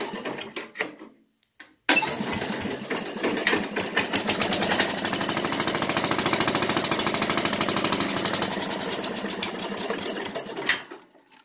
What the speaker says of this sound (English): turn the key on, start it.